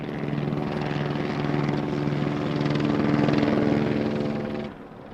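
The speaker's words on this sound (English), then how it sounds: "So they had the helicopter above shining down on the thick brush there" A police helicopter drones steadily overhead, searching over thick brush, its rotor thumping with a constant low hum that holds loud and even before cutting off abruptly near the end.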